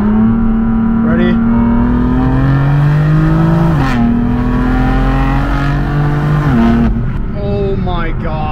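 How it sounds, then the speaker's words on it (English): A 425-horsepower BMW M4 F82 pulls hard in second gear, its engine note climbing steadily and loud from inside the cabin, dipping briefly at shifts or lifts before rising again. "let's do a second gear pull here"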